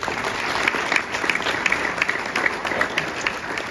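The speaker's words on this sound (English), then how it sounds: "Please give them a round of applause." An audience applauds at a homecoming celebration in Harrison, Arkansas, with dense, sustained clapping and a few sharper individual claps popping out over the steady wash.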